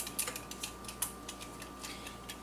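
A kitchen timer ticks quietly with a rapid, fairly regular rhythm of small clicks, close but faint, with no talk.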